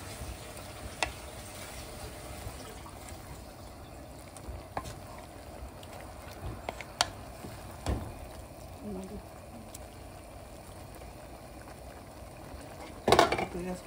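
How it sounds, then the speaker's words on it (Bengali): Kochur loti and shrimp curry simmering in a pot, a soft steady bubbling and sizzle with occasional clinks of a utensil against the pan, quiet and close. "আর একটু ফুটাবে কিছুক্ষণ।"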